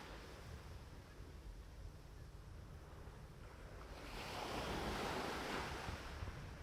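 Ocean waves break and wash along a seashore under steady wind, a continuous rushing surf that swells louder partway through, with no voices.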